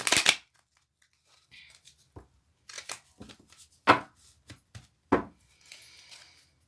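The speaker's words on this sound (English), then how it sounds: "I'm going to give it one more shuffle" A deck of cards is shuffled by hand in a quiet room, producing a few sharp riffling bursts and soft taps separated by short silences.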